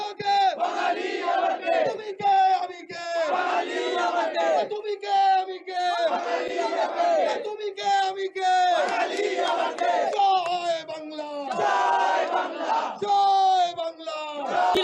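Protesters at a sit-in rally facing a rival protest stage chant slogans in loud, rhythmic call-and-response bursts from a crowd, repeating steadily throughout.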